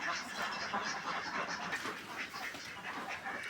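Khaki Campbell ducks in a duck house at night keep up a faint, busy chorus of soft quacks and honks with steady rustling in the background.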